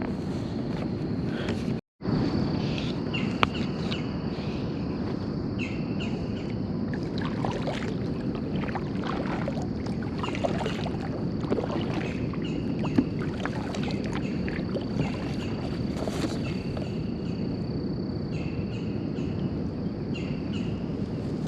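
Paddling a boat on the Dix River through Kentucky's Palisades, soft paddle strokes and water movement throughout with steady insect buzz and occasional birdsong, one brief dropout near the start, no talking.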